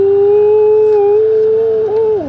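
A loud, drawn-out metallic creak with a wavering, howl-like squeal from a new crawfish cooker lid opening, sustained for about two seconds and bending in pitch near the end.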